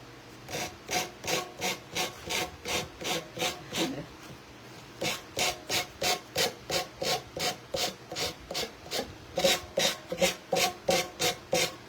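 Edge of a piece being sanded by hand: steady, rhythmic back-and-forth rasping strokes at close range, about two per second, with a brief pause partway through and no talk.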